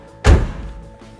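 A single solid, deep thunk as the door of a restored 1969 Chevrolet Camaro RS SS396 Pro Touring shuts, close and loud, fading into a quiet interior with a faint later tap.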